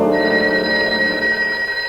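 A telephone bell rings loudly and steadily as a sound effect in a radio play of The Maltese Falcon, a sustained electronic-sounding ring filling the moment with no voices over it.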